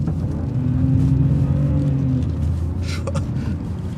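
An old BMW 7 Series driving, a loud steady engine rumble and road drone from inside the cabin with a brief rise in pitch as the car pulls on, and no talk.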